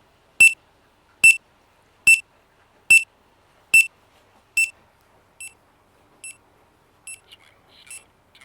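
A series of sharp, evenly spaced electronic start beeps from a Platysens Marlin swim meter, about ten in all, loud at first and then fainter, heard alone.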